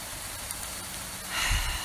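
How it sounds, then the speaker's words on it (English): Hail falls outdoors in Lake Elsinore on a freezing day, a steady, dense hiss of pellets striking the ground that swells louder near the end, with no talking. "we're still getting hail"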